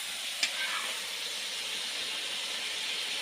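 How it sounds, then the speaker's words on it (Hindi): Chicken meat fries in hot oil with a loud, steady sizzling hiss, close up and continuous, with one brief clink near the start. "तेल में फ्राई कर रहा हूँ।"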